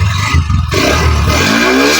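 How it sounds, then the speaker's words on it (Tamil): A Hero Xtreme 125R motorcycle's exhaust note rumbles close by on a beach setting, a steady low engine drone that rises in pitch toward the end as the revs build, with no talking. "இந்த பைக்கோட எக்ஸாஸ்ட் நோட் எப்படி இருக்குன்னு கேட்போங்க"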